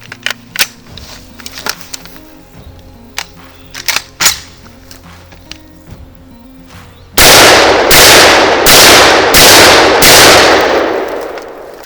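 A Kalashnikov rifle fires 7.62 rounds in a burst of about five very loud, close shots near the end, after a stretch of scattered quieter clicks and knocks.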